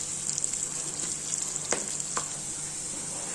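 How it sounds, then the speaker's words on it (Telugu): Onions frying in a pan for a buttermilk curry, giving a steady, dense high hiss of sizzling oil throughout, with two brief sharp clicks near the middle. "ఇవన్నీ ఇలాగా వేగుతూనే ఉన్నాయి, ఇంకా కొద్దిసేపు వేగాలి."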